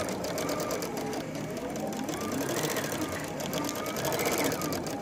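A Baby Lock or Brother sewing machine mounted on a quilting frame stitches steadily for the whole stretch. It gives a close, even, fast whirring hum with a quick rapid pulse and no pauses.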